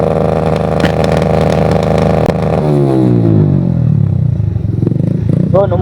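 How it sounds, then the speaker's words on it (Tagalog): Suzuki Smash motorcycle fitted with an Apido v3 exhaust revs hard and holds high, then the engine note drops and winds down through a falling tone, loud and close with a rough, steady exhaust rasp. "Yung tunog ng Apido version 3."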